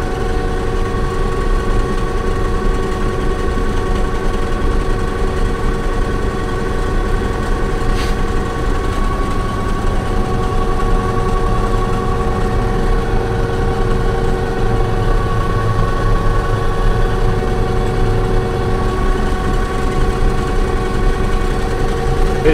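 A diesel farm vehicle with an automatic transmission, used to pull a wagon during a corn harvest, runs steadily throughout with a continuous droning hum that is loud, close and unchanging.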